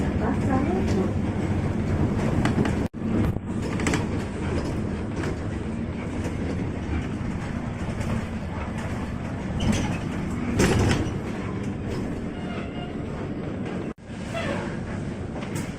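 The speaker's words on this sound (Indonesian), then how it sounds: "kita balap-balapan sama komuter lain yang mengarah ke Manggarai" A commuter train heading to Manggarai runs alongside in Jakarta, heard as a continuous rumbling rail roar with clattering bumps and a few sharp breaks, while a person talks over it.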